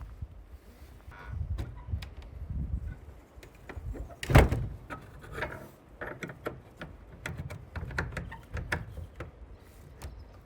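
A van door swings shut with a single loud thud midway through, amid outdoor rustling and small mechanical clicks from handling the door and lock.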